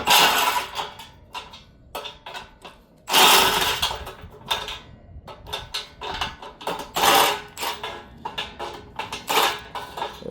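Impact wrench with a 14mm socket removing the AC condenser bolts on a 2006 Nissan Maxima, close and loud, firing in several short rattling bursts separated by pauses, with no talk.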